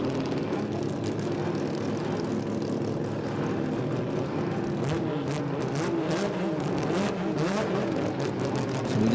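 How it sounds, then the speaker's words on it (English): A naturally aspirated Mazda RX-8 drag car revs loudly at an Australian sports compact drag racing meet, its dense, sustained engine roar filling the scene throughout with no breaks. "The RX-8's, so you can tell it's all motor. It's, it's just kind of loud, Mark."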